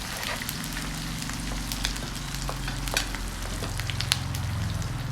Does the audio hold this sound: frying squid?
yes